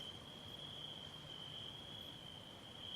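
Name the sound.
crickets chirping in video game Roadwarden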